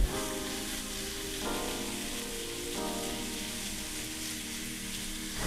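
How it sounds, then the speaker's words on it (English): Ground pork and onion fry in a pan for Puerto Rican empanadillas de pastelón, a steady close sizzle and crackle with no pauses and no talk. "Now I'm gonna add the ground pork."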